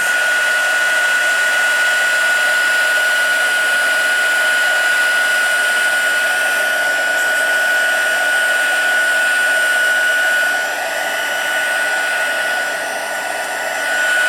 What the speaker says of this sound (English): it's going to be noisy, but you're going to, on the low setting, heat emboss this